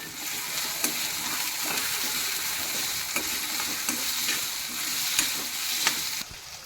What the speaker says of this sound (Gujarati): લીલા મરચાં ને આદુ બરોબર શેકાઈ જાય ધીમે ધીમે